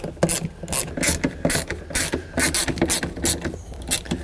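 A ratchet runs down fasteners during a carpet install in a 2nd-generation R56 Mini Cooper, giving quick bursts of close, loud clicking at an uneven rhythm.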